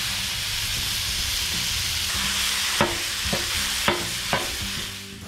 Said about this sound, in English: get our ground beef on the griddle and get that brown